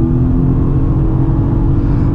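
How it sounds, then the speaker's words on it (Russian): A 2024 Subaru WRX launches hard from standstill, its engine holding a loud, steady low rumble at high revs, close and alone without talk. "Я готов продемонстрировать разгон, посмотреть на возможности автомобиля."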